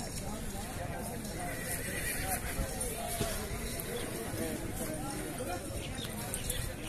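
A thin Morni-breed mare for sale, heard amid steady hoof clip-clop and horse sounds, with a neigh among them and someone talking over the scene.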